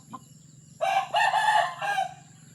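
A young rooster crows once, a loud, close call with a short break partway through, over a low steady hum in the background.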